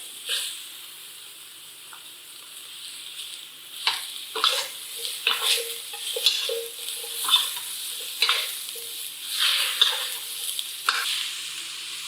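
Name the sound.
celery and peppers stir-frying in a pan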